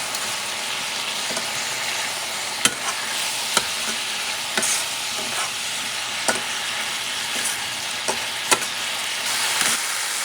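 Marinated steak and onions sizzle steadily in a pan for bistec encebollado, a continuous bright hiss broken by a few sharp pops and crackles, close and fairly loud with no talking.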